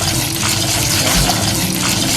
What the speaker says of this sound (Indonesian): Ini setelah disuir jamurnya dicuci ya.